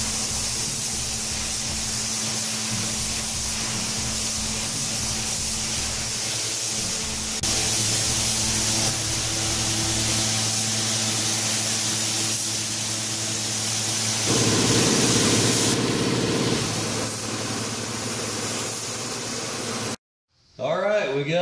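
Spray gun laying a blue base coat on an old pickup truck, a continuous loud hiss that shifts in level over a long stretch, with a voice speaking near the end.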